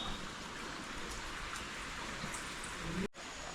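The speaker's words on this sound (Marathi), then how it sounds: "अचानक इल्लो पावस" Sudden monsoon rain in Konkan makes a faint, steady hiss of falling water through a few seconds, with a brief dropout near the end.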